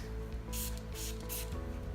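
A few quick bursts of Artero Matex detangler sprayed liberally onto a wet, matted dog coat during grooming, three short hissing spritzes close by over a low background hum.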